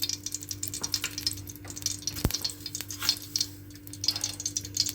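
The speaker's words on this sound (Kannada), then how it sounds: "ತುಪ್ಪ ಕರಗ್ತಾ ಇದೆ ಅಲ್ವಾ" Ghee melting in a pan gives a soft, steady sizzle with light crackles throughout, plus a sharp utensil tap near the middle and a faint low hum underneath.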